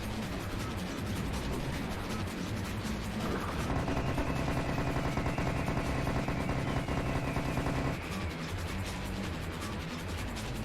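Sustained rapid gunfire in the Serious Sam VR shooter, a dense unbroken stream of shots with a mechanical whirring layer swelling in the middle before the firing carries on alone.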